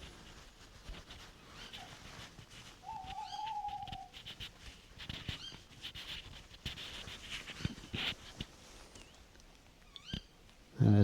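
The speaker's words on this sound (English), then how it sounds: "You hear the twit of the female, and the male that's right above me now." Tawny owls in a dark outdoor setting, a female and a male calling, a brief wavering hooting call mid-clip and sharper contact notes over faint rustling and background noise, fairly distant and quiet.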